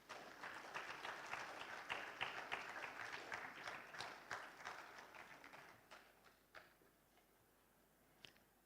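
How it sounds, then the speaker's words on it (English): An audience gives a round of applause welcoming a speaker to the platform at a Kwibuka30 remembrance event. Dense clapping starts strong, then thins gradually into scattered individual claps before fading, with one last clap near the end. "with a round of applause, we invite Mr."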